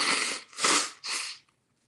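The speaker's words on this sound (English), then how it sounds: "I have to blow my nose." A person blowing their nose indoors, three forceful breathy blasts close to the microphone, the middle one loudest, then quiet.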